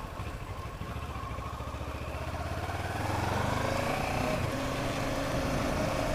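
Kawasaki Versys 650 motorcycle engine idling close by, then rising in a brief rev around the middle before settling into a steadier, louder drone, with no talk.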